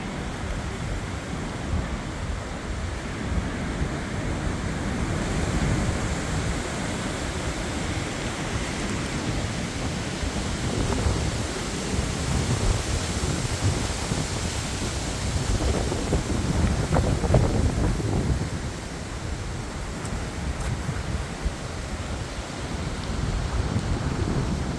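Strong 70-90 mph storm wind roars and buffets the microphone in rolling gusts in wet UK weather, a constant broadband rush with heavier surges, and no one speaking.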